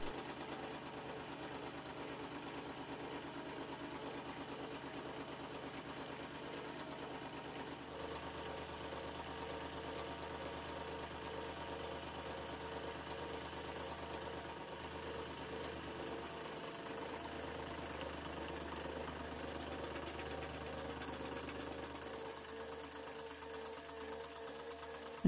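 A metal lathe cuts T-nuts, throwing chips, with a steady, close mechanical drone and rapid rhythmic chatter running continuously, the pitch shifting slightly near the end and a couple of small clicks along the way.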